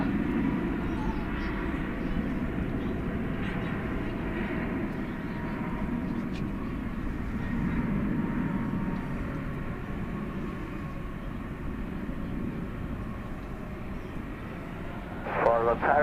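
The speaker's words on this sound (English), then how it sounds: "It's an Airbus A321neo, and it's now rolling down runway 18 left." An Airbus A321neo rolls down runway 18 left at DFW Airport at night, its engines a steady, moderately distant roar that holds for the whole stretch. Radio or commentary voices are heard over it.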